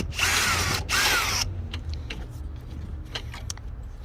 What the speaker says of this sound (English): Next I'm gonna do the screw or bolt that holds the bracket for the intercooler.